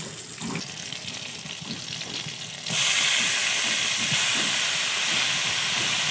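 Boiled, drained banana flower goes into a hot pan, setting off a sudden loud, sustained steam hiss that jumps up partway through and keeps going over faint background clatter.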